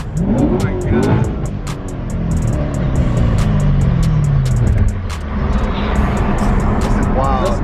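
A Chevrolet Corvette C7 revs hard while doing donuts and burnouts, its loud engine roaring and sweeping up and down in pitch, with voices talking over it.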